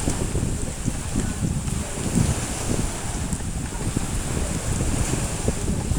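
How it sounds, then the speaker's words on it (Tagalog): Ocean waves break on a beach as a rough, low rumbling wash, heavily buffeted by wind noise on the microphone, continuous and fairly loud throughout. "Maririnig ninyo ang hampas ng alon sa dalampasigan."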